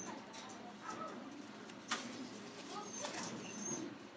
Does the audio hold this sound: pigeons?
yes